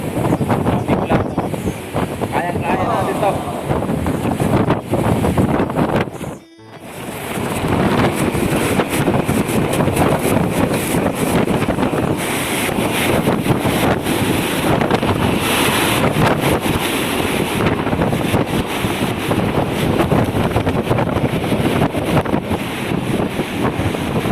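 Strong typhoon winds during Typhoon Rolly in the Philippines roar and buffet the microphone continuously and loudly, with gusty rumbling and a brief drop-out partway through, and no talking.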